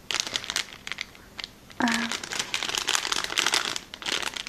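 Paper flowers being handled, giving bursts of dry crinkling and rustling close by, with a brief tonal squeak in the middle and no speech.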